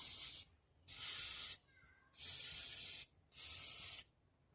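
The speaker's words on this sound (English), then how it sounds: "it's going to give this a little bit of a spray here" Three long hissing bursts from an aerosol can of penetrating oil sprayed on a John Deere D130 mower deck, each lasting about a second, separated by brief pauses and faint handling sounds.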